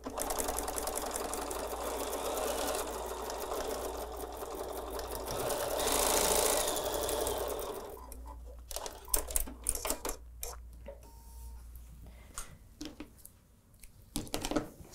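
A sewing machine stitches quilt seams with a steady, loud whirring hum for about eight seconds, then stops; softer clicks and handling noises of fabric and tools follow.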